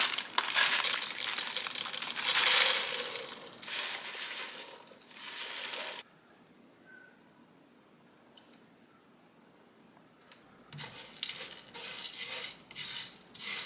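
Crushed pine rosin and jojoba oil are mixed together in a container, giving close scraping, rubbing and clinking for several seconds, then a quiet pause before more stirring.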